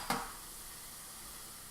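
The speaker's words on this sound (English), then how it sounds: "Now that our onions and garlic have been sauteing in olive oil" Chopped onions and garlic sauteing in olive oil in a pan, a steady close sizzle after a short stirring clatter at the start, with no talk.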